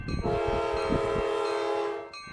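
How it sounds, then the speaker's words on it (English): A train in the Roblox game, on a large Northern California driving map, sounds a sustained chord horn for about two seconds over a low rolling rumble, then the horn cuts off sharply. "And here comes the train really even faster itself."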